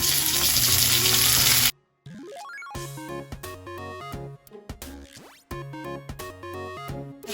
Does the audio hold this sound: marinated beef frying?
yes